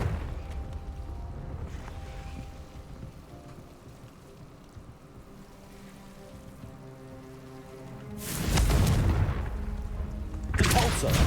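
A fiery Confringo spell blast in the game Hogwarts Legacy erupts as a loud, broad burst late in the moment, followed by a second explosive burst, over quiet game ambience.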